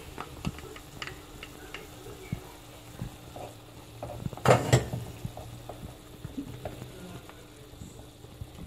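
Sauce for a potato and béchamel gratin bubbles quietly in a pot, a soft steady simmer under scattered clinks of a utensil against the pan, with one louder clatter midway.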